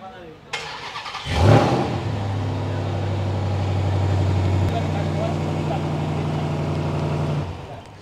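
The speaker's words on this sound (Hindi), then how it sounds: "और अगर आप इसको ट्वाइस प्रेस करेंगे तो आपका इंजन स्टार्ट हो जाएगा।" A Toyota Fortuner or Ford Endeavour SUV engine, started remotely with the key fob: a click, then the starter cranks and the engine catches with a brief rev before settling into a steady, close idle.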